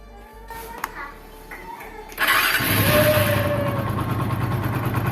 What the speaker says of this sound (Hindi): अब मैं इस बाइक को दोबारा स्टार्ट करके दिखाता हूँ।